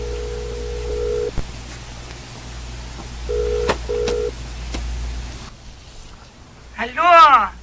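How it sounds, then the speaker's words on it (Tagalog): A cellphone call being dialed: a few short steady keypad tones and clicks with a low hum, then a brief ringing burst near the end, fairly close. "Ay, tawagan ko ni siyang cellphone"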